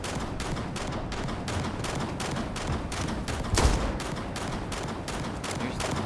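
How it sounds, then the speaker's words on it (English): Rapid gunfire from a firefight in the video game Starfield, with sharp repeated shots in a steady, continuous rhythm at moderate level and one heavier boom partway through. "Should be no shooting. Yeah, I'm hearing shooting."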